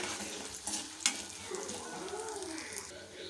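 Lentils and coriander seeds roast in a pan with a soft, steady dry sizzle and occasional scraping stirs, plus a sharp clink about one second in and faint cooing in the background.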